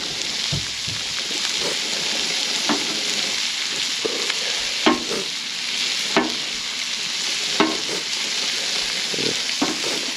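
Flounder frying in butter on a Blackstone griddle, giving a steady loud sizzle and crackle with occasional scraping spatula clicks, close and continuous without talk.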